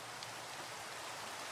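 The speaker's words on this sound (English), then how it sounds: "It could stop raining, would be nice." Steady rain from the game Minecraft hisses evenly and without a break, a dense wash of falling drops with no voices over it.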